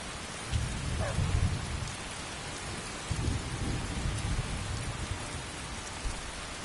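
Steady rain pours in the game Skyrim while low thunder rumbles roll in two swells, heavy and close, with no talking.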